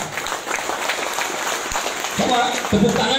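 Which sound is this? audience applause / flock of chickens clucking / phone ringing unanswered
audience applause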